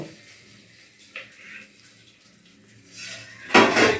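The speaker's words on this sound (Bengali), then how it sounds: "তো দেখুন এই চালটা আমি হালকা করে একটু ভেজে নিচ্ছি" Uncooked rice for pulao is lightly fried and stirred in a pan, with faint scrapes and taps of a utensil that build into a loud, gritty clattering rush near the end.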